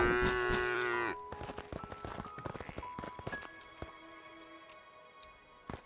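A cow moos loudly in the survival crafting video game Craftopia, one long low call followed by scattered hoof thuds and clatter as the animal shuffles about.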